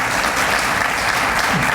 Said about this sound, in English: save the applause